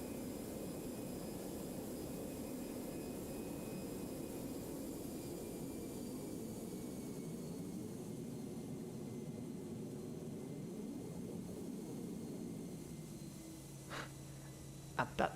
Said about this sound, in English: those thrust reversers feel like they take for ages to deploy